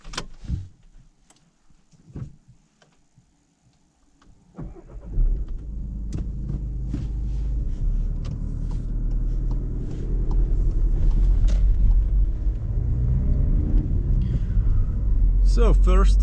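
A 2019 Skoda Octavia Combi with a 1.6 litre four-cylinder TDI diesel, 116 hp, is quiet at first, then starts up at about five seconds into a steady, loud low rumble while driving, with faint interior clicks and brief knocks.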